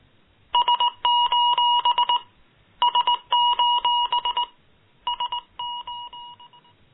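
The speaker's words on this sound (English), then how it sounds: "Morse code, SOS." Electronic beeps sound in three bursts of rapid, clipped two-tone pulses, signalling like Morse code, loud and close with short pauses between groups.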